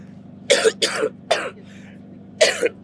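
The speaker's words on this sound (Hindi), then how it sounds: "ये धूल की वजह से बहुत खांसी होता है" Four short, harsh coughs caused by dust, in quick succession, close to the microphone, over a low steady background hum.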